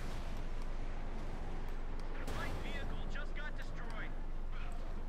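A Pak 40 anti-tank gun fires at a half-track in the Company of Heroes 2 video game, one heavy report rising out of steady battlefield noise while voices talk over it.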